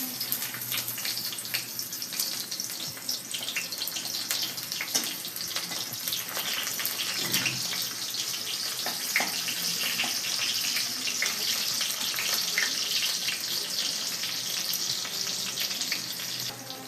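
Onions cooking in hot mustard oil in a pan, giving a loud, dense, continuous sizzling hiss with fine crackles that holds steady for the whole stretch, with no talking.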